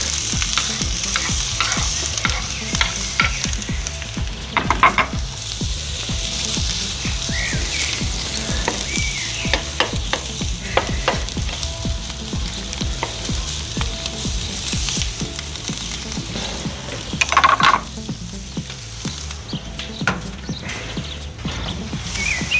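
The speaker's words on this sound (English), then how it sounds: "Now we're gonna use the same oil for our veggies." Spring onion, paprika and garlic fry in reused oil in a pan for a shrimp paella, giving a steady loud sizzle with frequent stirring scrapes and clicks throughout.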